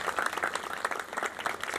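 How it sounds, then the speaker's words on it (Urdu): A church audience claps together in a steady burst of applause at a sermon, moderately loud and continuous for a couple of seconds with no speech over it. "تالی بجائے یسوع مسیح کے لیے ہے۔"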